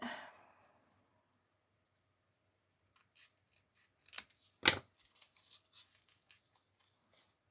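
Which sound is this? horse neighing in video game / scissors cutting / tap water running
scissors cutting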